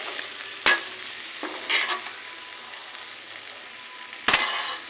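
A spoon stirs a spiced potato and capsicum fry in a pan over a low, steady sizzle, with a few sharp metallic scrapes and clinks against the pan spaced across the stirring.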